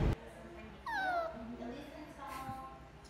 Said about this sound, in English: There's a cat that just came out and I think some kind of surgery or something. So it's whimpering.